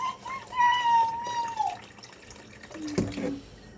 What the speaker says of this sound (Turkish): Ben biraz daha su ilavesi yapacağım.